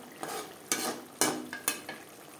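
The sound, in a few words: stirring fried bele fish into tomato gravy in a pan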